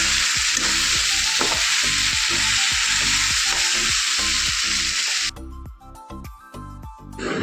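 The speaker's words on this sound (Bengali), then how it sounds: "একদিকে ডাল ফোড়ন দেওয়া হয়ে যাচ্ছে আর একদিকে প্রেশারে চচ্চড়ি বসানো হয়ে যাচ্ছে" Dal is tempered in hot oil in a home kitchen, with a loud, continuous sizzle close by. It cuts to a quieter, crackling fry for the last couple of seconds.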